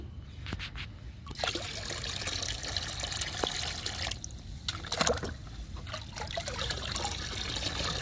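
Liquid fertilizer made from green grass soaked in water for four days trickles and splashes onto garden plants as it is poured, with uneven gurgles and drips close by.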